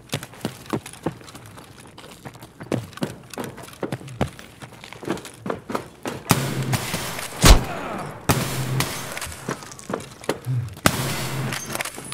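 Gunfire in Escape from Tarkov out in the woods, heard as a long run of scattered sharp cracks and thuds, some close and loud with one heavy blast near the middle, others fainter and more distant.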